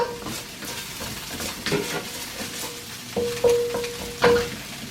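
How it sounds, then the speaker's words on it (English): Garlic stir-frying in a pan while cooking beef and vegetables with cashew nuts, a steady close sizzle broken by several spatula scrapes and clinks against the pan, with no talking. "Then we put in the garlic. Stir a little bit."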